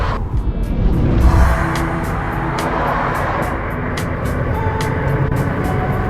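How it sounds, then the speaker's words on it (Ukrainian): A car rumbles steadily along a rough road, its engine droning under a constant bumpy rattle, with no one speaking. "Нормально едет, хорошая машина. Да. Дорога плохая."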